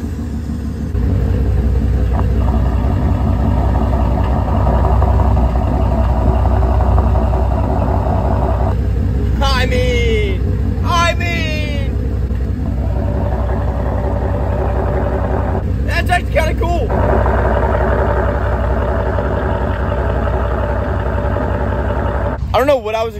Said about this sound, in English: y'all asked me to put the megaphone up to my exhaust, so I'm going to try that.